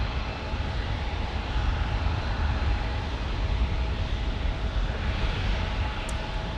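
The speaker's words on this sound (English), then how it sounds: "That was the sound of the trolley going by" An MTS light rail trolley passes by at San Diego, a broad steady rumbling roar held at a constant level throughout, fairly distant, with no talk.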